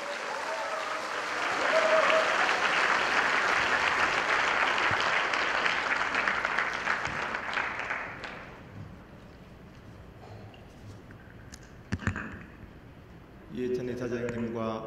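Loud, dense audience applause welcomes the Chungnam governor as the speaker at a ceremony marking the seventh anniversary of the October 4 inter-Korean summit declaration, sustained for about eight seconds before fading into quieter room sound and voices.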